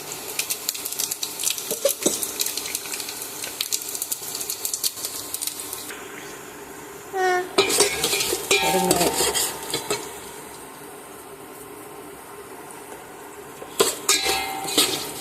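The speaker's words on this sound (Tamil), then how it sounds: "கடுகெல்லாம் வச்சது இந்த ப்ரௌன் கலர் ஆனதும் கொஞ்சம் பெருங்காயம்," Mustard seeds and asafoetida fry in hot oil in a pan, a continuous sizzle with stirring scrapes and metal utensil clinks against the pan, louder bursts of stirring near the middle and end.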